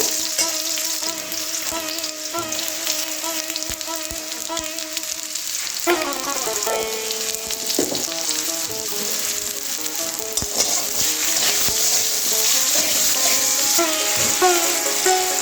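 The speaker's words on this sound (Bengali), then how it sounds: "এখানে আলুগুলো ভালো করে একটু ভেজে নেব" Potatoes frying in oil with curry leaves in a pan, a dense steady sizzle with crackling pops and utensil clinks, close, with a tonal hum running beneath.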